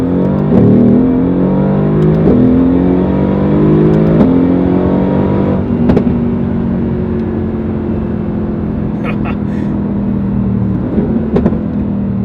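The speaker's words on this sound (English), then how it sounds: "I just wanted to hear the noise, you know, hear the engine" A Mercedes-AMG GT R engine revs loudly and steadily nearby, its deep tone climbing and settling into a sustained drone, with a few sharp clicks later.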